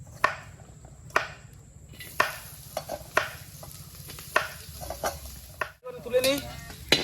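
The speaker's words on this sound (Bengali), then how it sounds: "তেলটা এখন গরম হয়ে গেল, এখন দিয়ে পেঁয়াজটা ভেজে নেবো" Onions fry in hot oil for street-style chowmein, a soft steady sizzle under repeated sharp metallic clinks of a spatula stirring against the pan at an uneven rhythm, close by, with no talking.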